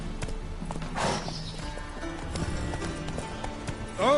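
Roach the horse galloping in The Witcher 3, rhythmic hoof clip-clops at moderate volume over faint game ambience, with a brief louder thump near the start and another near the end.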